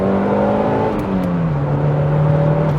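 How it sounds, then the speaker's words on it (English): A Toyota MR2 GT-S Turbo engine pulls hard from inside the car, its close steady drone rising and then dropping to a lower pitch as it shifts, with no talk over it. "I love just the response from the engine"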